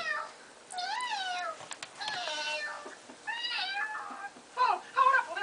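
A kitten meows repeatedly in a children's game setting, a series of clear, rising and falling cries with short pauses, fairly close and alone with no talking.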